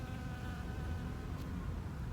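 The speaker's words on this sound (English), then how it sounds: "As you can see, more bees there doing what they do." Bees buzz outdoors in a steady, faint drone, a continuous hum with no voices.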